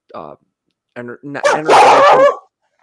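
A dog barks a couple of short times near the start, then someone talks loudly over the end, during a live game-day sports fan broadcast.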